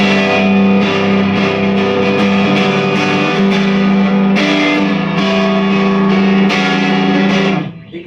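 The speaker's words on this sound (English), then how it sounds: "gives you this beautiful sound, beautiful crunching distortion behind you" Electric guitar played in full chords through a vintage MXR Distortion+ pedal, giving a loud, sustained crunchy distorted tone with steady strummed attacks that rings alone before cutting off near the end.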